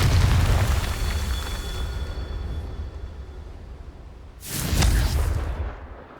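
A Confringo blasting spell explodes in Hogwarts Legacy, a sharp, loud boom with a roaring rumble that follows a long stretch of low, rumbling ambience and then trails off.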